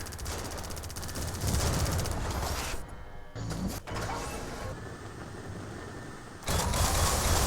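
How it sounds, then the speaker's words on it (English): Heavy Warthog cannon fire in an Airmech Strike match, a dense, loud mechanical burst of rapid shots that breaks off briefly and then resumes, with no voices. "lIIusion trying his best with the Warthog cannon to do as much damage as possible"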